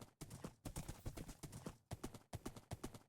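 Horse hooves clip-clopping in Minecraft, a quick regular run of hoofbeats in short bursts with brief pauses, fairly faint.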